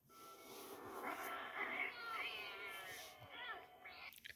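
A cat lets out a long, drawn-out yowl that rises and wavers, fairly quiet and close, ending with a few shorter cries.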